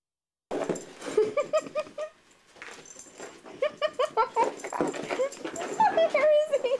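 A puppy named Bodhi whimpers and yips in rapid, high-pitched bursts at a Thanksgiving gathering, close and insistent, with people talking over and between the cries.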